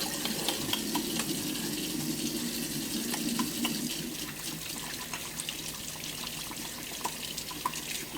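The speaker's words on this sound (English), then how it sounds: "I wash my hands" Tap water runs steadily in a kitchen while hands are washed under it, a continuous close hiss and splash with small irregular spatters throughout, no talking.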